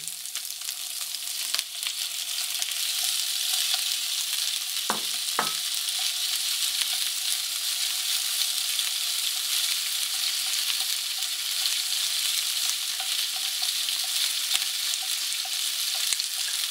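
Udon noodles with squid and vegetables sizzle steadily in a hot frying pan, a constant crackling hiss with an occasional clink of a utensil stirring.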